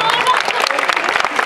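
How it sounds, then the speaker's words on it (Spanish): Audience at a street workout calisthenics battle breaking into applause, dense clapping mixed with crowd noise and voices, fairly loud and close. "Un aplauso para el chico, por favor."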